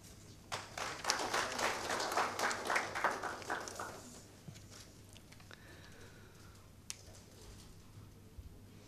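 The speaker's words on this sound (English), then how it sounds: "A loud applause, please." An audience at a legal knowledge-sharing platform launch event breaks into applause, a brief swell of many clapping hands that peaks early, then thins out to a few scattered claps and near quiet.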